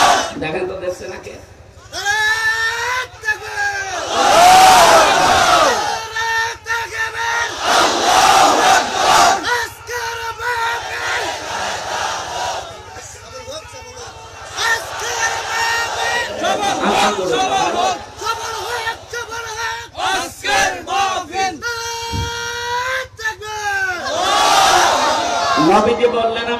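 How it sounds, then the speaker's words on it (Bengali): A large crowd at an outdoor Islamic waz gathering in Bangladesh roars a chanted religious slogan in loud repeated bursts, alternating with a preacher's amplified voice calling out between the responses. "যারা মুসলিম জবান খুলে বলেন তো লিল্লাহে তাকবীর।"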